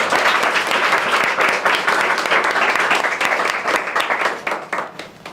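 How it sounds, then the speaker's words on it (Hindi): Loud, sustained audience applause for Harish at a spoken English motivational gathering, a thick wash of many hands clapping steadily and tapering slightly near the end. "तो जोरदार ताली हरीश साहब के लिए।"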